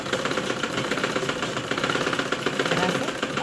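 A sewing machine stitches fabric, a fast steady mechanical whirring rattle running continuously at close range.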